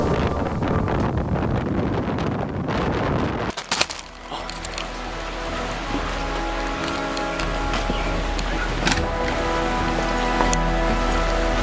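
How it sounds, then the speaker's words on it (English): Steady rain hissing across a surface during a lakeside storm, with gusty wind buffeting the microphone; a sharp shift around four seconds as the downpour thickens, no voices. "Oh, here comes the rain."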